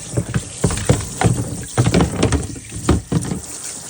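A deer skull being rinsed under running water: irregular splashes and spatters, loud and close, coming in quick bursts with short gaps.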